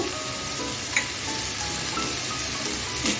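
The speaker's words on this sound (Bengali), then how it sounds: "তিরিশ সেকেন্ডের মতো ভেজে নিচ্ছি সেকেন্ড হয়ে গেছে চাট মশলা চিলি ফ্লেক্স দিয়ে দিচ্ছি" Suji balls frying in a pan as chaat masala and chili flakes go in, a steady close sizzle with soft stirring scrapes and a couple of faint clinks.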